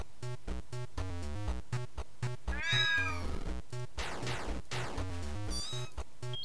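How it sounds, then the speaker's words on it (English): A cat meows a few times over steady background music with a regular beat, the calls fairly faint and partly blended into the track. "There's a cat there!"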